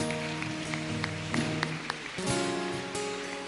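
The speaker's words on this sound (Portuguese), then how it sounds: "Pode dar um grande aplauso ao Senhor Jesus." A congregation applauds during a Christian church service, a dense wash of claps filling the room alongside sustained music.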